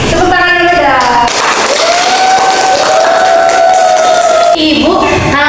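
Students in a classroom break into steady, dense applause that runs for several seconds, with a sustained voice-like tone and chatter mixed in before the clapping fades.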